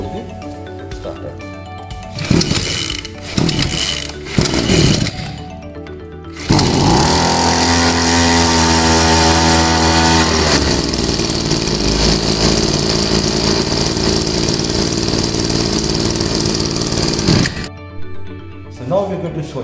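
A small carbureted gasoline engine, choked with the throttle at medium, takes several sharp pull-starter tugs before catching and running loudly and steadily at close range, then cuts off abruptly near the end.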